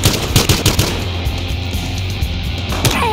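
Rapid automatic weapon fire in the video game Battlefield Hardline, a close, loud burst of quick shots in the opening second followed by scattered further shots and a steady game background.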